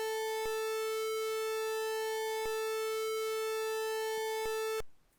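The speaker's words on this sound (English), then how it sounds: "we can even plug in our phaser" A steady synthesized wave through a phaser effect hums with a buzzy, slightly shifting sweep, broken by a few brief clicks, then cuts off abruptly near the end.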